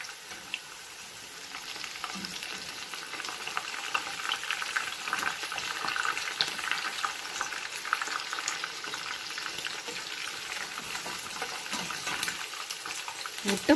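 Pieces of anchovy coated in spiced batter with egg and rice flour fry in oil after being turned, a continuous bubbling sizzle that stays fairly even and close throughout.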